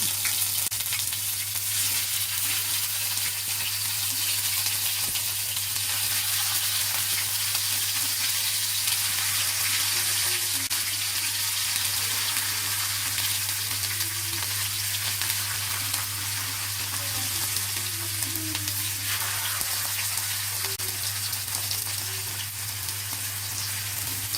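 Sardines frying in hot coconut oil in a pan, Kerala style with green peppercorns, give a steady, close, continuous sizzle and crackle that holds evenly throughout, with a low hum underneath and no talking.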